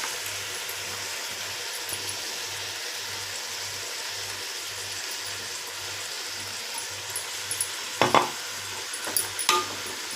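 Ginger garlic paste and mixed vegetables sautéing in a pan, with a soft steady sizzle and a faint low rhythmic hum, then a few louder scrapes and clinks of a spoon stirring near the end.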